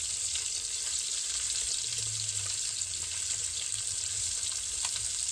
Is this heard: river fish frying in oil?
yes